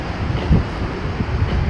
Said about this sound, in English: God, it's so windy out